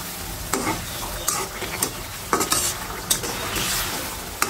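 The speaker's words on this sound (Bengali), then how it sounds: "এখন আমি মাছটা একটু নেড়ে চেড়ে মিশিয়ে নেব।" Battered river fish being stirred in a frying pan, with a steady sizzle of hot oil under repeated scrapes and clinks of a utensil against the pan, close and fairly loud with no talking.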